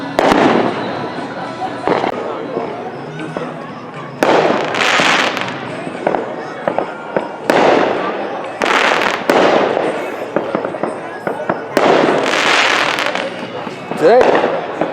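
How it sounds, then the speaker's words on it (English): Fireworks and firecrackers go off repeatedly in a suburban neighborhood, loud close bursts and crackling volleys following one another almost continuously, with people talking between blasts. "quit burning up your fireworks"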